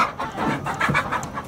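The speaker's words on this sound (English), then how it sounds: "the air is always filled with the clucking and crowing of happy chickens" Chickens clucking at an organic farm, a run of soft overlapping clucks and throaty calls, fairly close and continuous outdoors, with no voices over them.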